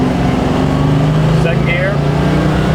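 A 1969 Mustang BOSS 302 V8 pulls away in first gear, its loud, close, throaty drone holding steady and climbing slightly in pitch.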